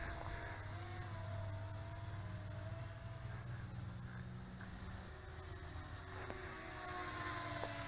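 A small foldable Wi-Fi FPV toy drone, the LH-X41WF, flying at full throttle outdoors in daylight, its thin high motor whine droning steadily and fairly faint over a constant wind-like background rumble.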